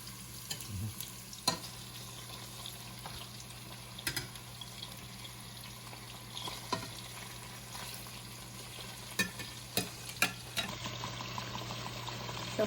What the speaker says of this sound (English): Now we're going to add in the fish.